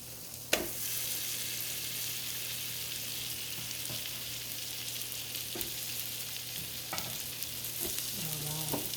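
Day-old rice fries and gets stirred in a pan for Thai crab fried rice, a steady soft sizzle broken by occasional scraping clanks of the utensil against the pan.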